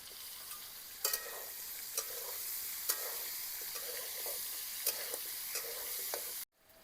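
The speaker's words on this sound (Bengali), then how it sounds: "ডাঁটাগুলো একটুখানি ভাজা হবে" Drumsticks (sajna), carrot and potato pieces frying in oil in a pan: a faint steady hiss of sizzling with occasional sharp clicks of a spatula stirring, before the sound cuts off abruptly.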